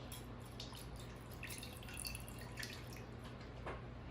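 Warm water trickles and drips steadily into a container while mixing up homemade bouncy balls, a soft continuous liquid patter with faint splashy flecks, with no talk over it.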